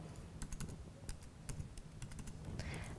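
Fingers tap out a date on a computer keyboard, a short run of crisp, close keystrokes in uneven bursts over a low background hum.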